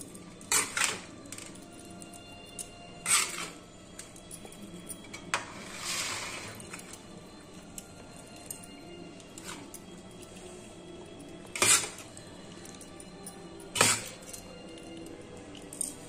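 A metal spoon scraping and clinking against a vessel while mixing rice seasoned with black spice powder and tempering. Sharp clinks come at irregular intervals over quiet mixing, fairly faint and close, with no talking.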